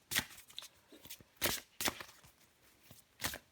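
Tarot cards are shuffled in several quick, crisp riffling bursts spaced unevenly, close and fairly soft, with no talking.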